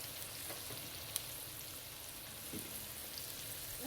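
Aloo keema sizzles in a frying pan while being mixed with salt, chili powder and spices, a soft steady crackle with faint stirring scrapes close by and no talking.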